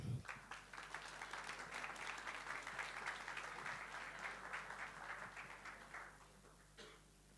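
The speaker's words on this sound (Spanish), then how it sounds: "Les damos un fuerte aplauso a ambos." A conference audience at a Latin American district energy event applauds two speakers: sustained, fairly distant clapping from a crowd that fades out toward the end, with a few faint louder claps, and no speech.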